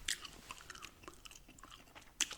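Gum chewing close to the mic, soft wet clicks and smacks running steadily through the quiet, with a sharper crunchy snap near the end.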